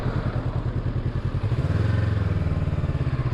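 A Honda CB500X motorcycle idles close by while being parked, a steady throbbing engine rumble that deepens slightly partway through, with a clattering undertone and no talk.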